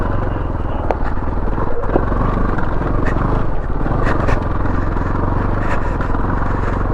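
A 2019 Beta Alp 4.0 motorcycle labors up a chalk hill, its engine droning loud and steady with clatters and scrapes from the rough ground, recorded close from the rider's position.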